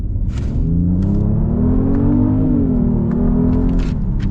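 A 2021 Genesis GV80 luxury SUV accelerates hard, its engine rumble rising steadily in pitch from inside the cabin, loud and continuous, with a brief dip as it shifts before climbing again.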